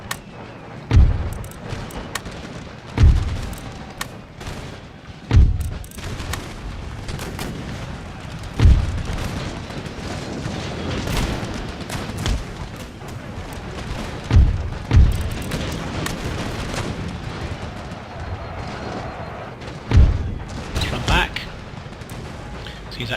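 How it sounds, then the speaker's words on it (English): Repeated booming cannon volleys of artillery fire in Empire: Total War, heavy thuds spaced every few seconds over a constant crackle of musketry and battle noise, with someone talking over the battlefield. "This is just for delaying so the artillery can fire for as long as possible."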